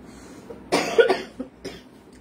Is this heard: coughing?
yes